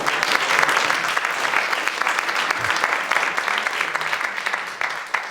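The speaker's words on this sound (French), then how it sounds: "En général, les merci sont suivis d'applaudissements." Audience applause at a French-language workshop synthesis day, a dense steady clapping from a room full of people that holds throughout without any talk.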